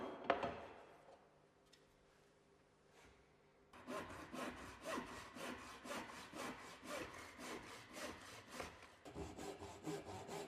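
Hand saw cutting a scribe on a wooden skirting board: a quiet scrape at first, then steady rhythmic back-and-forth strokes, close and fairly loud, with no talking.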